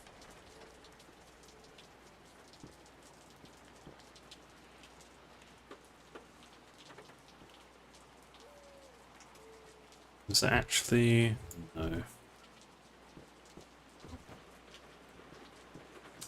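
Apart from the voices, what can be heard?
rain ambience in Peripeteia video game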